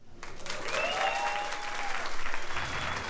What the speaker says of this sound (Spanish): Por aplausos.